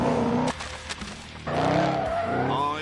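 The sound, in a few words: tuned American muscle cars skidding in The Grand Tour Game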